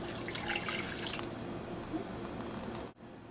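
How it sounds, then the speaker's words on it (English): Boiled water pours steadily into a pot for cooking quinoa, with a splashing, trickling rush. It eases and thins near the end, then cuts off abruptly. "Now you can add the boiled water"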